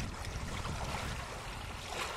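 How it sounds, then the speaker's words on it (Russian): Faint, steady wash of water lapping with a low rumbling hiss, like a small boat rocking gently; no voices. "Вода качает мою лодку."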